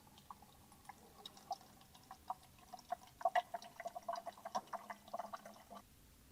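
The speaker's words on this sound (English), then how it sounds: "And then inject purified water until the bottle is full." Purified water is poured into a bottle until full while refilling a Nikarich Hydrapower machine. Faint, irregular trickles and drips patter quietly throughout, with a slightly busier cluster of splashes midway.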